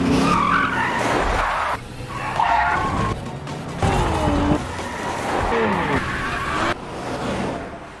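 Car tires squeal and skid in repeated long screeches during a film car chase, loud and close, with engine roar rising between the bursts.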